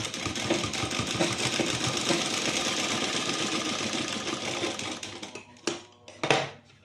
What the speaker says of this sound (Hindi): इसी की तरह हम पूरे कपड़ों के शो बटन को भी सिलाई लगा लेंगे।